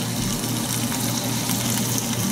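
Whey left over from making paneer is poured into a cooking pot, producing a continuous close gushing, splashing flow that stays steady for a couple of seconds. Nobody talks over it.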